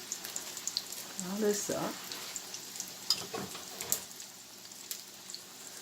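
Cod croquette cakes sizzle and crackle in a frying pan, a soft steady spatter with scattered pops, while someone speaks briefly over it.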